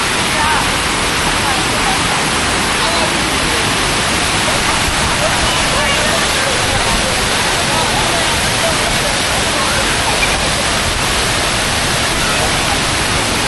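Loud, steady rushing water roars continuously over a check dam, a dense broadband wash that fills the whole scene without letting up.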